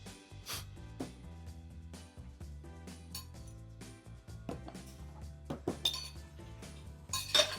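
Dishes, pots and cutlery clink and clatter while being handled in a home kitchen during cookie baking, a series of irregular sharp knocks and chimes at close range with no talk.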